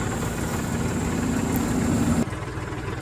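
A loaded tractor drives along a road, its engine a close, steady low drone that continues without pause for a few seconds, no voices present.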